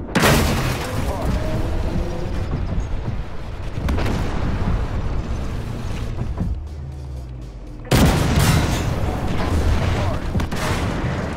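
Gunfire from a Bradley vehicle and explosions rumble through a video game battle in dense, continuous booms and bursts, loud and close, with a sharp fresh blast partway through and voices talking over it.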